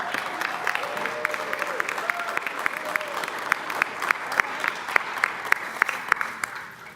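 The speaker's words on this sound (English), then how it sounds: "I want to just give a really big round of applause to Danielle and her crew" Applause at a recovery and remembrance gathering in Raton, New Mexico, for an event organizer and her crew: a crowd claps steadily with a few sharp, distinct nearby claps standing out, and faint voices murmur beneath as it slowly tapers.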